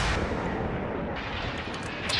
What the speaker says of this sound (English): I'm gonna see if I can flashbang.